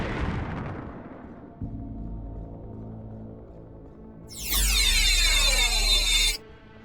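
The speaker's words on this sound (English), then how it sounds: "Long-range shots made at the runabout eliminate its shields." Energy weapons fire in a Star Trek: Alliance space battle as ships trade shots with a runabout and Jem'Hadar attack ships: a deep booming blast, then a loud rising whine of a long-range beam or shot that holds for about two seconds.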